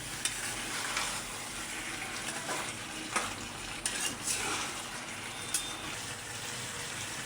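Rohu fish and spices stirred in a sizzling frying pan, a steady hot fry with scraping strokes of a utensil and occasional sharp clinks against the pan, close and unbroken, no voices.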